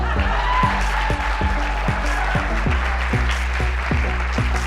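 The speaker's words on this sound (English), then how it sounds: "how about a round of applause for your wonderful host?" A crowd claps steadily for the host of a monologue competition final, full and loud across the whole stretch with a low repeating thump beneath, and some faint voices mixed into the applause.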